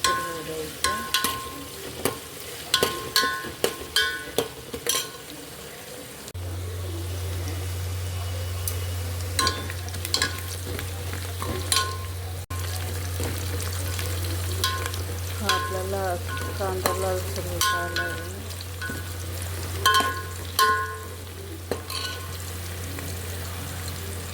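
Masala powder frying in hot oil in a pan, a constant close sizzle broken by frequent scrapes and clinks of a stirring spoon, with a low steady hum underneath.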